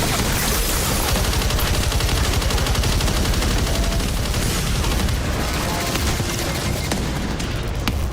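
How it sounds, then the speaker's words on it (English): Dense, continuous video game gunfire roars loud and close, rapid automatic shots layered with booming impacts in a relentless barrage. "Who is shooting at me?"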